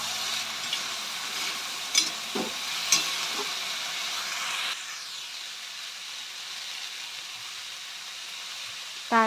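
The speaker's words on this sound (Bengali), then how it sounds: "ঢাকা দেব, একটু ভাজা হতে দেব।" Peas, carrot and potato fry in a covered pan, a soft continuous sizzle with a couple of faint stirring clinks, quieter after the lid goes on.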